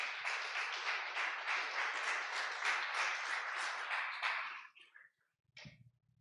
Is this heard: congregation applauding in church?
yes